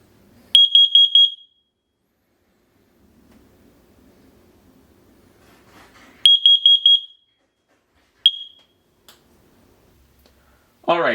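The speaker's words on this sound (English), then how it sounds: "there is also a carbon monoxide alarm in the same hallway where the bedrooms are" A household carbon monoxide and smoke alarm in a bedroom hallway gives two clusters of sharp, loud, rapid high-pitched beeps with a quiet gap between them and a single short chirp after, ending as a voice begins.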